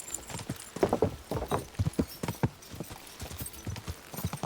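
Galloping horse in the medieval role-playing game Kingdom Come: Deliverance II, with rapid, steady clip-clop hoofbeats close and fairly loud, mixed with rustling movement and no speech.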